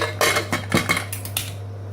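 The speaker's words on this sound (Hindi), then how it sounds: "अभी इसे ढक्कन को बंद कर देंगे" Metal clatter of a pressure cooker lid being set on and closed while cooking a Sindhi-style cauliflower curry, several sharp clanks and scrapes close by over a steady low hum.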